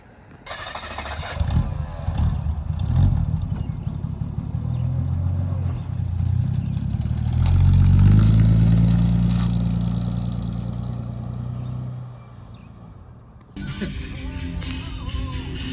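A 1955 Plymouth Savoy with a flathead engine cranks and fires, then revs up strongly and settles back down, loud and close, with a brief quieter gap near the end before the engine picks up again.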